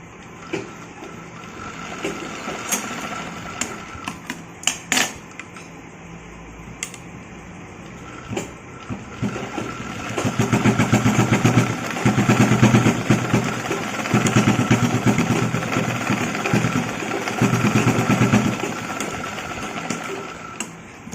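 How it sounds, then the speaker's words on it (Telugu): A sewing machine stitches a zipper handbag in quick mechanical runs with short pauses, a rapid whirring rattle that becomes a longer, louder steady run later. "2 సార్లు కుట్టు వేసుకోవాలి. తర్వాత దీనిని మళ్ళీ కుట్టుకోవాలి."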